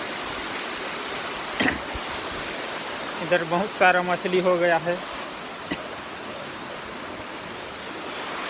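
Steady, dense rush of a forest waterfall at Bagh Madha in Baloda Bazar, pouring continuously from start to finish, with someone speaking briefly over the roar partway through.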